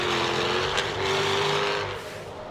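A Jaguar F-Type at the Simola Hillclimb drones past with a sustained engine note that rises slightly in pitch and then fades as it moves away.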